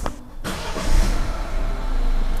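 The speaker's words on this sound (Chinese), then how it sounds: "那我们现在来发动" A rebuilt BMW 316 engine cranks and catches after a short starter burst, then settles into a steady, close idle rumble.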